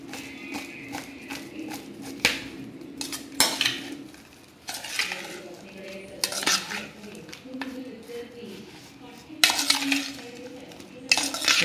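Potato slices are tossed with turmeric, amchur powder and chaat masala in a dish, making soft, irregular clinks and scrapes of a spoon against the vessel, with a faint sizzle underneath and no talk.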